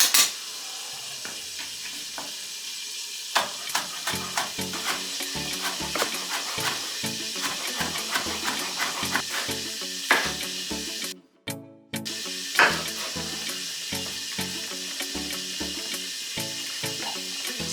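Beef pot roast for a Jamaican dish sizzles and spits in a pot, a dense continuous frying hiss with clattering stirs and utensil scrapes, close and loud, with a brief pause partway through.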